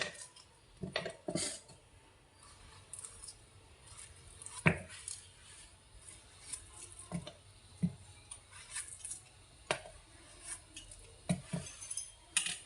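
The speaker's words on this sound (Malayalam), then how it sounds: "അതിലേക്ക് നമുക്ക് ഈ പഴം ഇതുപോലെ ഒന്ന് കട്ട് ചെയ്തിട്ട് കൊടുക്കാം" A knife cuts ripe banana into pieces that drop into a mixer jar, giving scattered soft chops and a few sharp knocks against the jar and board, close and quiet with pauses between strokes.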